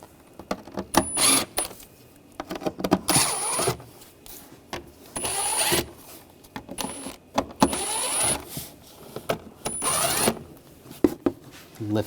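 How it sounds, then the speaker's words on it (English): Screws on the engine cover of a 2007-2013 BMW X5 3.0L L6 are loosened with a T25 socket, producing close ratcheting clicks in short bursts separated by brief pauses, with metallic ticks in between. "Using a T25 socket, we'll loosen up the screws."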